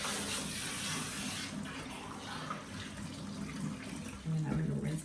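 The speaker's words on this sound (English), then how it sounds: "And then I'm going to rinse, make sure it's all rinsed out" Tap water runs steadily while shampoo is rinsed out of hair, a soft continuous splashing hiss that thins slightly partway through, with a brief voice near the end.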